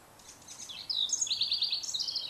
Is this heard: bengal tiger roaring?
no